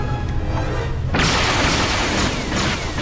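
Heavy booming gunfire from snipers in Star Wars Jedi Knight II: Jedi Outcast erupts suddenly after a quiet moment, then roars as a loud sustained blast with scattered crackling bursts on top.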